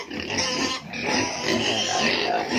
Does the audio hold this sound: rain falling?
no